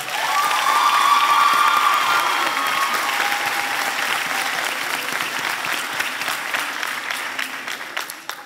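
An audience at a school excellence awards evening breaks into sustained applause, loud and full at first and slowly thinning into scattered clapping, with some crowd murmur.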